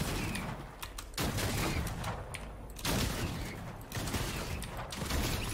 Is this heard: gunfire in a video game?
yes